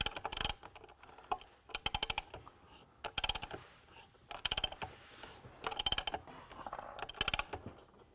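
Nut being cranked down onto a bolt through a soft pine 2x4, with bursts of close, sharp ratcheting clicks in repeated runs and short pauses between them.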